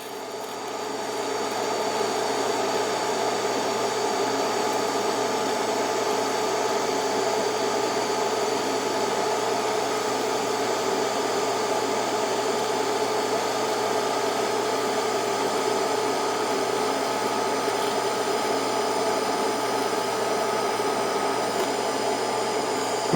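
A TIG welder lays a fillet joint, giving a steady, even hiss with a faint electrical buzz that runs unbroken for about twenty seconds after a soft start, with no voices.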